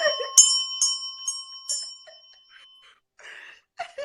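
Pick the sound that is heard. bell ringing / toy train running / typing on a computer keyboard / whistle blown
bell ringing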